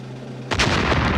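A toy cannon fires a single loud, sharp blast that cuts in abruptly after a low hum and rings out with a dense rumbling tail.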